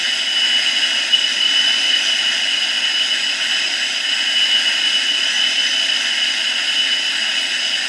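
Boeing 787 jet engines roar during takeoff in a flight simulator game, a loud, steady broadband whoosh with a high whine that holds unchanged throughout, with no talking.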